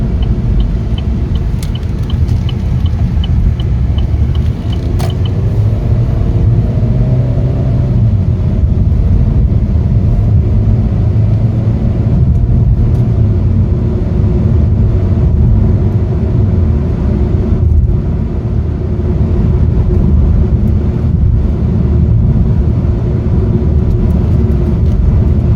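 Steady low road rumble inside a 2017 Chevrolet Malibu LT while driving, a loud continuous drone with a faint engine tone rising and falling, no talking.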